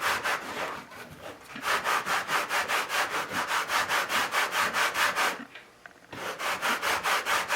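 A knife or rasp scrapes steadily back and forth along the cut edge of a drywall patch to form a bevel, a regular rhythmic rasping of close strokes with a short pause before the strokes resume.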